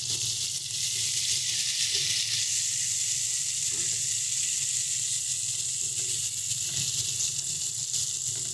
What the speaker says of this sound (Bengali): তেলটা দিয়ে আমরা পেঁয়াজটা ভেজে নেব।